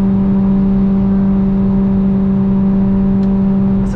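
Motorcycles built for road touring accelerating on a Brazilian BR highway, heard from a following car: a steady, loud engine drone with sustained tonal whine and road noise, continuous throughout with no talk.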